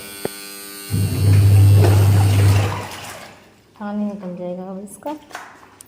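A steady low motor hum with rushing, gurgling water runs for a couple of seconds, then fades as a person starts talking.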